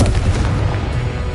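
A Confringo blasting spell explodes in Hogwarts Legacy, a loud, continuous booming burst with heavy low rumble that sustains at steady volume throughout, with no voices over it.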